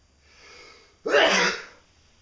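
A single sharp sneeze bursts out after a faint breathy intake, loud and close, then fades quickly.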